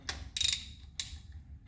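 A socket ratchet turns a transmission pan bolt on a 2001 Ford Ranger in three quick bursts of clicking, close and fairly quiet, with no talking.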